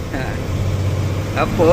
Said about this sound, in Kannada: ಸೆಕೆಂಡ್ ಗೇರ್ ಕೇಳ್ತೈತೆ ಇದು ಅಪ್ಪು